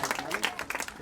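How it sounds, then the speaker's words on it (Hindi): Loud applause at a national inclusion inauguration event, a brief burst of clapping from an audience mixed with voices. "जोरदार तालियां।"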